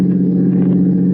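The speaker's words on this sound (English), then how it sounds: "There's a truck coming down the road." Radio-drama sound effect of a truck driving past on a road, a loud, steady low rumble filling the whole brief moment with no speech.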